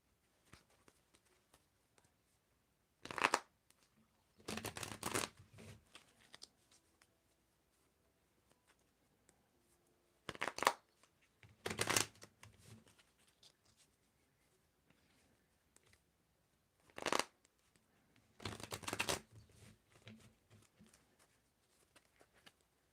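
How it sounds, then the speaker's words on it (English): Tarot cards are shuffled in three separate bursts of brisk riffling, each a few seconds long, with quiet pauses between and no talking. "Okay, Julie, I want you to tell me when to stop shuffling."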